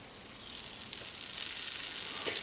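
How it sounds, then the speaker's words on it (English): Butter sizzling in a hot frying pan, a soft, steady close hiss and crackle that grows slightly louder, no talking. "I have my pan hot here, so I'm going to add some butter"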